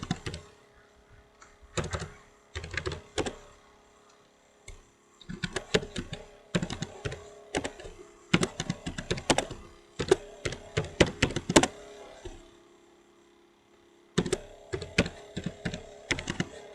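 Bursts of typing on a computer keyboard while entering C code in the CodeBlocks IDE, close and clear, with rapid clustered keystrokes separated by short pauses.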